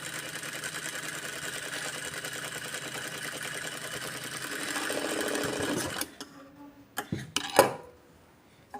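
A sewing machine runs steadily at close range, a continuous rapid mechanical whir while stitching around fabric, then stops at about six seconds, followed by a few sharp clicks and handling sounds.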